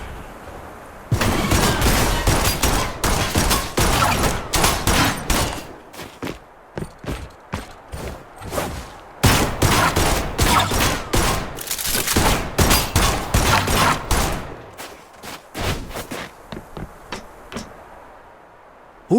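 Rapid bursts of gunfire crackle through a firefight in the video game Duet Night Abyss, loud and dense for most of the stretch, with brief lulls before the shooting picks up again and then thins out near the end.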